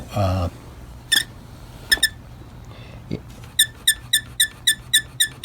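A loose base on an RCA 26X4 radio squeaks: a few isolated chirps, then a quick, regular run of about nine small squeaks, close up.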